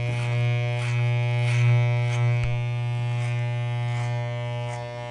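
Electric hair clippers buzz steadily during a medium fade barber shop haircut, run clipper over comb, a close, continuous motor drone with faint rhythmic cutting swells and one brief knock midway.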